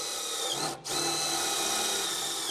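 A power tool drives bolts into a steel modular house frame, giving a loud, steady mechanical whir that runs almost continuously with one brief dip in the middle.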